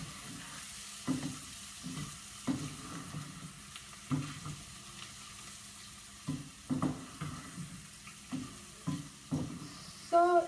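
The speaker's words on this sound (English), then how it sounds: "it's all getting cooked with this onion and oil" Eggs cook with onion and oil in a pan while a spatula stirs and scrapes in a regular rhythm of distinct strokes, each over a soft, low sizzle.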